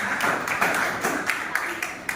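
A small classroom audience claps a few times, with scattered, uneven claps over about two seconds that sound close and moderately loud.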